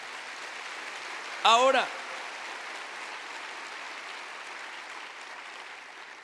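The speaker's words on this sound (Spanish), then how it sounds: "Dele fuerte ese aplauso al Señor" A church congregation claps for the Lord in a steady, dense wash of applause that sounds moderately distant, with a preacher's brief spoken word cutting through near the start.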